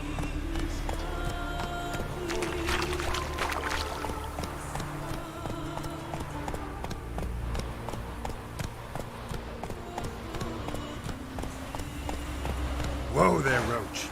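Roach the horse gallops in The Witcher 3, a steady run of hoof clip-clops carrying through the whole stretch over in-game music and ambience, with a voice spurring the horse on.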